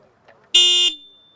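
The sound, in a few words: Yamaha FZS V4 Hybrid motorcycle horn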